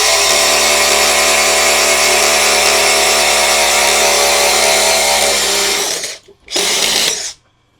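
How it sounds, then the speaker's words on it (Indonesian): A DongCheng DCJZ2090i cordless impact driver bores with a hex-shank bit in a loud, steady high-pitched whine that runs for several seconds, then stops, briefly restarts and cuts out. "Kita coba pengeboran ke sini ya"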